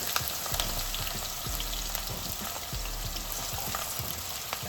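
Chopped scallions fry in hot oil in a pan for Chinese fried rice, giving a dense, steady crackling sizzle with occasional low knocks, close up and without talk.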